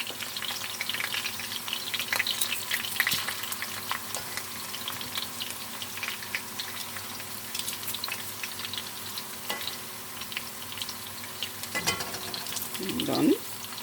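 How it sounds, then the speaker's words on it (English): Minced garlic and onion fry in a pan with a steady close sizzle and occasional stirring clinks, and a voice briefly speaks over it near the end. "So what I'll do is I will fry garlic with the onion."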